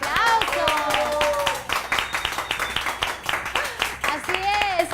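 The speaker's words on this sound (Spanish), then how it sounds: "¡Fuertes los aplausos!" Studio applause on a Peruvian cable TV talk show celebrating its first anniversary, steady rapid clapping from a small group with a presenter's voice and tonal music layered over it.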